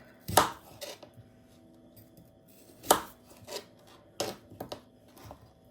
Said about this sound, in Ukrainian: Ріжемо картоплю не ідеально, бо це домашня картопля, а не конкурс краси